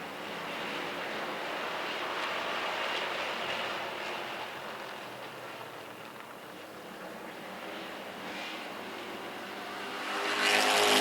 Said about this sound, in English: Sean Johnson working around the high side of Josh Hall, puts the 35 car in the lead.